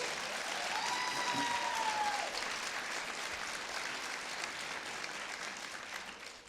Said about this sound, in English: Give Bob Duffy a round of applause.